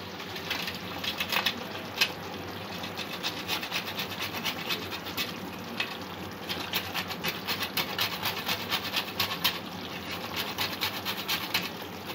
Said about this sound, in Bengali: জায়ফল একটু গুঁড়ো করে দিয়ে দেবো।